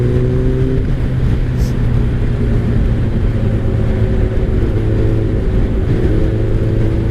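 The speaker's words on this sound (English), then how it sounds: "It's one of those bikes that's not too loud. With the Two Brothers exhaust, it has a nice pitch." A 2003 Kawasaki ZR7S motorcycle fitted with a Two Brothers exhaust, heard while riding on a cold day, giving a loud, steady engine drone with a fairly even pitch that shifts slightly near the start and toward the end.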